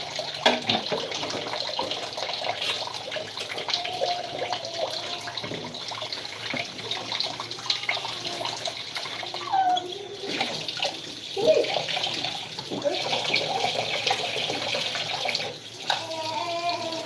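Water runs steadily from a household tap while dinner of rice, beans and cabbage is being made, a continuous splashing stream with faint voices now and then.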